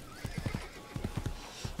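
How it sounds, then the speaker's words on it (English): A horse in Assassin's Creed whinnies and snorts, a run of short rhythmic bursts rising and falling, close and clear with no talk over it. "I'd actually like to get onto the horse, Altair."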